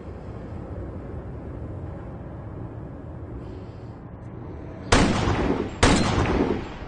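Two sharp, loud rifle-like gunshots in quick succession ring out near the end, following several seconds of steady low background rumble.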